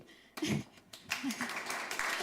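An audience at an innovation demo day gives a brief burst of clapping, lasting about two seconds and fairly close.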